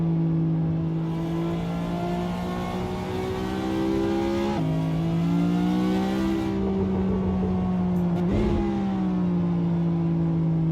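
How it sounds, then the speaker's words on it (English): Ferrari engine in Assetto Corsa drones steadily at high revs, with one sharp gear-change dip midway and a brief crackle from the exhaust near the end, loud and close with no talk. "the exhaust is making a lot of noise right there. Them gunshot sounds."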